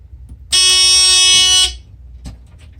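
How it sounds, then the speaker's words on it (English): A loud, steady electronic smoke detector alarm tone with bright harmonics sounds for about a second, then cuts off, leaving a quiet room. "That was the smoke detector."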